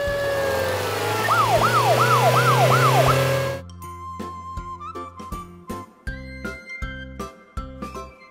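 A police car siren wails in a rising-and-falling pattern for about three seconds, loud and close, then cuts off and gives way to a plucky, jingling tune with a steady beat.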